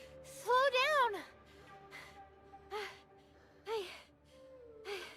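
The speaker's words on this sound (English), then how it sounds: "Panting, her voice gradually dwindles." A female character in the Path to Nowhere video game gives a strained, wavering vocal cry, followed by several short, breathy panting gasps spaced apart and growing fainter.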